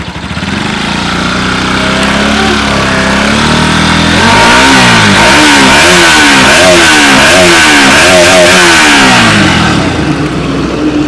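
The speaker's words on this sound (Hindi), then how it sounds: "थोड़ा सा रैप करेंगे।" A Bajaj Pulsar RS200 motorcycle on its stock exhaust revs loudly and close, the engine note climbing and falling in repeated throttle blips over a steady idle, with no talking.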